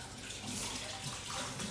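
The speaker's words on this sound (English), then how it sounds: "Quick wash of the hands." A kitchen tap runs steadily while hands are washed under it during home cooking, a close, continuous hiss and splash of water with no talking.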